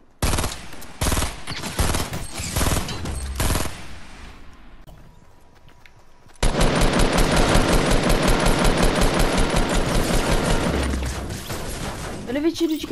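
Rapid bursts of automatic gunfire in a video game rattle loudly, pausing briefly before a long, sustained stretch of continuous shooting.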